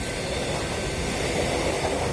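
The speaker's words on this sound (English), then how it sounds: "That's my train, I think." A train pulling into a station platform, a steady, loud broadband rumble and rush of rail noise that fills the whole moment without pause and without any voices.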